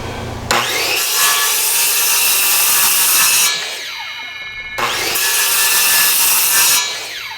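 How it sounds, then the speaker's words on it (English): A power saw cuts into a log for a log home build, notching two-inch cuts in two long, loud, steady passes separated by a brief pause, with a near, continuous rasping whine throughout. "so I'll be able to get in here with the saw"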